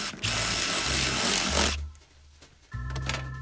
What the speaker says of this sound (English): this is a 9/32 drill bit for an impact